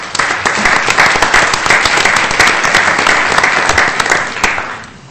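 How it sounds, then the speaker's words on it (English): A round of applause at a city council meeting fills the room steadily and loudly for several seconds, many hands clapping together with no talk over it. "I think that deserves a round of applause"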